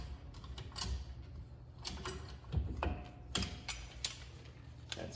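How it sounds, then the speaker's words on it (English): A caliper piston spreader opens the pistons of a brake caliper with ratcheting clicks and metallic clunks, several distinct mechanical knocks spaced irregularly at close range. "we're going to open up those caliper pistons with a caliper spreader"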